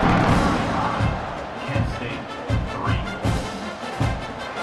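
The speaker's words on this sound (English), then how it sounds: "this crowd now ready to get behind them." A stadium crowd in the College Football 26 video game before a kickoff, a loud continuous roar punctuated by regular rhythmic thumps like stomping.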